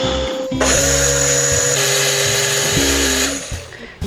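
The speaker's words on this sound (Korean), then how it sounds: "이제 갈아주면 다 된 겁니다" A kitchen blender purees blanched carrots with water, carrot cooking water and a spoon of extra virgin olive oil; a loud, steady motor whir starts abruptly, shifts pitch as the mix smooths, then winds down.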